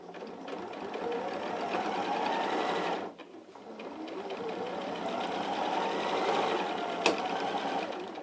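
Sewing machine running steadily while top stitching a bucket bag at default stitch length, a continuous mechanical whirr with a brief pause near the middle before it resumes, close and fairly loud, with no voices.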